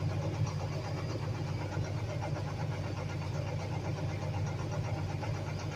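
A farm truck engine running steadily after being primed during corn planting, a constant low mid-pitched drone at moderate level with no talk over it.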